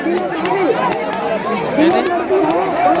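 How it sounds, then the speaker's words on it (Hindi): Dense babble of a big crowd gathered at Pendri pond, many overlapping voices talking at once, close and steady, with a few sharp clicks cutting through. "चारों कुछ पूरा एकदम तहलका भीड़ है।"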